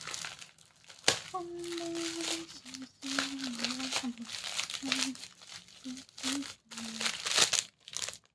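Plastic packaging on a mini laptop stand crinkles and crumples in bursts as it is torn open, close by, while someone talks over much of it.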